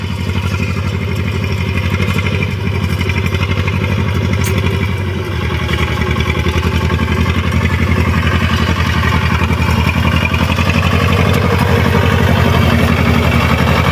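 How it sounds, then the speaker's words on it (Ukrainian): A tractor raking hay drones steadily without a break, a low rumbling engine close by with a faint clattering edge running throughout. "зараз трактор громадить і другий має приїхати тюкувати"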